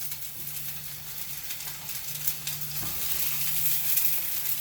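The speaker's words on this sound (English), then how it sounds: "It's just sizzling." Food sizzles steadily in a hot pan, a constant crackling hiss with a faint low hum underneath, growing slightly louder toward the end.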